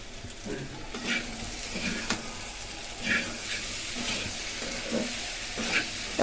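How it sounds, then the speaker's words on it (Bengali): Boiled potatoes are sautéed in a pan for an egg curry with nigella seeds: a soft, even frying hiss with gentle, irregular stirring scrapes, fairly quiet and close, with no voices. "মা আলুগুলো যে সিদ্ধ সেটি একটু কষিয়ে নিবে"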